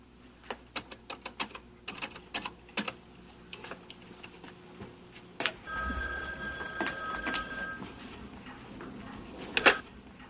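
A landline telephone rings in a sitcom home scene, a sustained electronic trill lasting a couple of seconds, preceded by scattered light clicking and taps with room noise.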